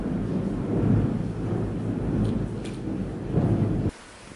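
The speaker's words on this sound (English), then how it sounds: "Super close, dark, roaring, rolling thunder." Close, rolling thunder from a storm rumbles deep and loud, swelling and fading in heavy waves before cutting off abruptly.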